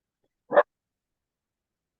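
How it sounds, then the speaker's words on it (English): A dog gives a single short bark at a moderate distance, followed by silence. "Couldn't have said it better myself from the dog barking."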